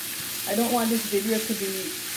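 Ackee and saltfish frying over high heat, a steady close sizzle with stirring, while a voice speaks over the cooking sound.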